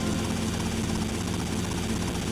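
Helicopter rotor and engine in GTA: Vice City, a dense continuous whirring drone with a low throbbing beat, loud and steady throughout with no voices.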